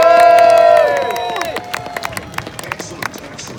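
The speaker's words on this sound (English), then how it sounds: "we'll give them all a big round of applause for our favourites." At a jousting event, a crowd cheers with a loud sustained shout that fades into scattered clapping and voices, outdoors and fairly close.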